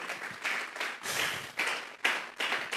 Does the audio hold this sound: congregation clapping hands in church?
yes